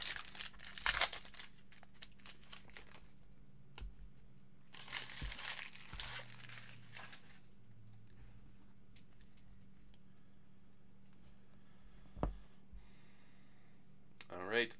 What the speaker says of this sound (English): Almost any novice could easily rip these packs.